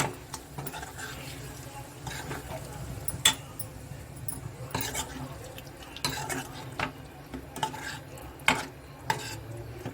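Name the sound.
stirring chicken ghee roast masala in a pan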